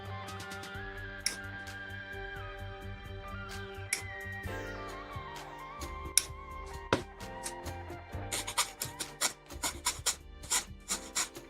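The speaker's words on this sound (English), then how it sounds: "you always have to be very light on the sanding" A glossy plastic part from a 1/12 Bandai Star Wars Luke Skywalker Stormtrooper model kit is lightly sanded in quick rasping strokes, close up, over steady background music. The strokes grow denser and more rhythmic toward the end.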